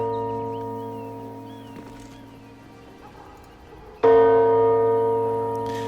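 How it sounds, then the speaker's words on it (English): A town bell rung in a video game hums as it fades from an earlier strike, then clangs loudly again with a full, ringing tone that slowly decays over soft ambience. "let's see about ringing this bell"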